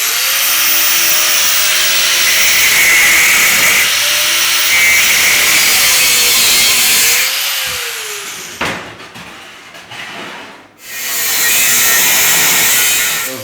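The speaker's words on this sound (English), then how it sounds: "Don't cut all the way through with the cutoff wheel." A cutoff wheel grinds through a steel motorcycle frame near a weld, a loud sustained high whine that dips, stops briefly and then resumes, with no talking.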